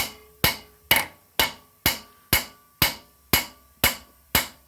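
A metal hammer strikes a rusted, carbon-stuck intake valve on a 1969 Montgomery Ward Power Kraft 8 hp engine: ten sharp, evenly spaced blows up close, each ringing briefly, with no talking.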